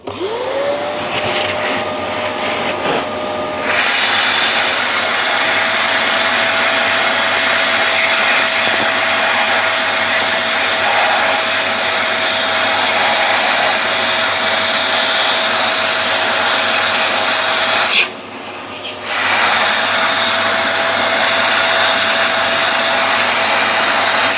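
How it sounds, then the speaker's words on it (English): A vacuum cleaner runs loud and close while cleaning ground coffee mess from a DF54 coffee grinder. It starts with a rising whine, holds a steady roar, and briefly drops in pitch near the end before recovering. "let me use a vacuum again to clean it up"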